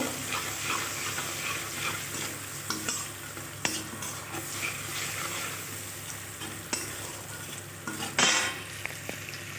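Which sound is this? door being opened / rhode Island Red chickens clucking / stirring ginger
stirring ginger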